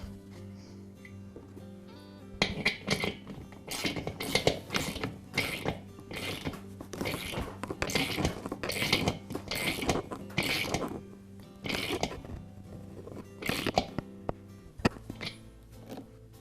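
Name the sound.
tightening a new check valve into a compressor tank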